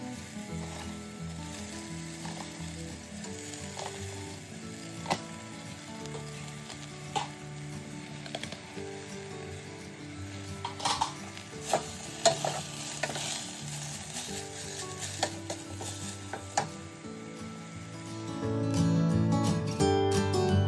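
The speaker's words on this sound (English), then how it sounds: "I just add a little bit at a time to give them a chance to wilt down" Collard greens go into a hot pot a handful at a time, a steady sizzle with scattered clinks and stirring scrapes, and a louder rush of frying near the end.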